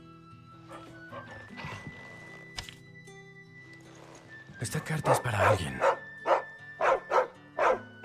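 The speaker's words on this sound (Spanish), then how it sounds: "el perro se está comiendo la carta del perro." Dog barking in the video game Final Fantasy 16, a run of sharp, fairly close barks repeating in quick rhythm over game music, following a stretch where someone talks.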